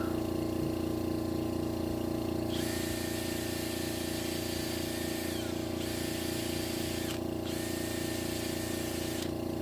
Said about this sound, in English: The wire wheel works well for removing the bulk calcite scale from the outside of the piece.